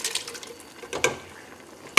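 Canned tomatoes are poured into a pot of thick chili, making short wet splashes and plops, with one sharper splat near the middle and another at the end.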